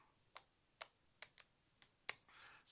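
Cardboard sunrise tiles from the board game Harvest are shuffled and cut on a table, giving six or seven sharp, close clicks and slaps in an uneven rhythm in a quiet room, ending with a brief soft rustle.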